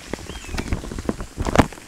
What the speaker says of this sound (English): Yeah, it's crazy rain right now.